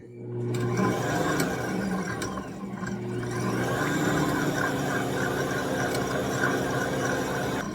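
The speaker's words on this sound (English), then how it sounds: "you're going to hear the mixer in the background" An Ankarsrum stand mixer whisking cake batter on its lowest speed, a steady close mechanical whir and hum running continuously with faint tapping and clinks over it.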